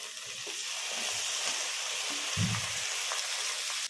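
Finely chopped tomatoes hitting lightly golden onions in a hot pan, giving a steady loud sizzle and hiss with faint stirring scrapes, close up and without talk.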